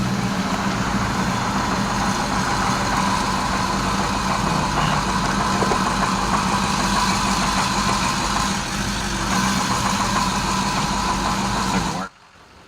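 A Ford F250 with the 6.0-liter engine, suffering an EGR failure, runs steadily with a loud, rough mechanical drone and low hum that holds for about twelve seconds before cutting off abruptly.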